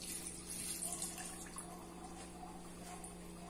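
A cup of water is poured into a cooking pan holding diced pineapple, a faint, brief splashing trickle against a steady low background hum.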